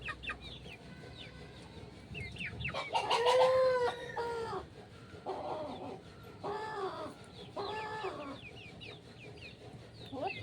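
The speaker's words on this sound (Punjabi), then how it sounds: "ਆਪਣਾ ਪੀਲਾ ਮੁਰਗ" A yellow rooster at a farm with animals for sale crows once loudly and nearby, then hens and the rooster cluck in short repeated bursts, with faint background noise throughout.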